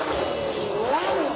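A 1990 Formula 1 car, the one Alain Prost raced that season, revs its engine in a loud, steady rising and falling whine, close by and with no voices.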